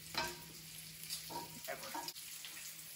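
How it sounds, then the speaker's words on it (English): Bacon frying in a pan, a steady close sizzle with popping grease and a few scraping stirs, breakfast cooking at home. "when you're frying bacon, you should have safety goggles with every pack of bacon"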